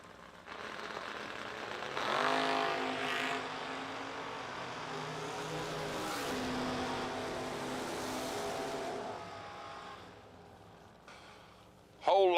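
A Chevy II and a Camaro launch side by side down a drag strip, engines roaring loud and sustained for several seconds, with a track announcer talking over the noise.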